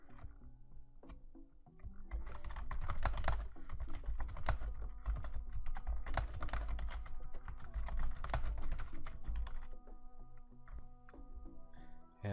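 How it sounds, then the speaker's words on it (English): Rapid typing on a computer keyboard, with dense, irregular clicking keystrokes close up that carry on steadily for about eight seconds and then thin out toward the end. "So I'm going to type that out now."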